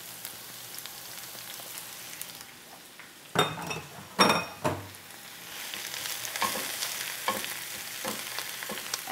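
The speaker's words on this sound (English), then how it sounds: "our oil is nice and shimmery now. And we're just going to simply add the spinach." Fresh spinach dropped into shimmering hot oil in a pan, setting off loud bursts of sizzling and clinking as it lands, then a continuous crackling fry with occasional utensil taps.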